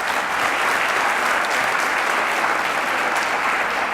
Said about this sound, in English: Let's give one more round of applause for those sophomore academic achievers